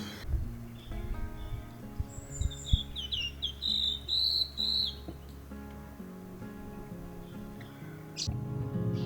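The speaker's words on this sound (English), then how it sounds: "eventually, I found the bird I'd been hoping for" A bird calls from trees at Hardings Paddock in South East Queensland, giving a run of bright, rising chirps and whistles at mid distance. Steady insect and cricket trills sit underneath, with a few soft knocks and no talking.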